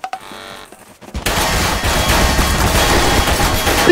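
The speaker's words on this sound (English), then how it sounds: "they're shooting through the wall, dude!" Video game gunfire shooting through a wall: after a brief quieter stretch, a loud, sustained burst of rapid shots erupts and keeps rattling to the end.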